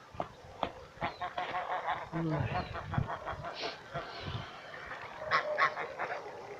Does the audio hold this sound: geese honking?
yes